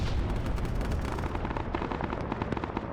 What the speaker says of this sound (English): Yep, nope, that is the artillery.